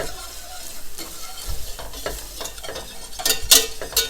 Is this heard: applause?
no